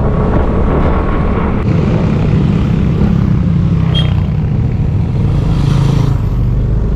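Several motorcycles ride past on a Saturday road, a steady broadband engine drone with louder swells as bikes pass near, mixed with wind buffeting from riding along.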